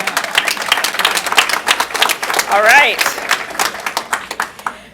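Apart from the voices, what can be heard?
committee meeting applause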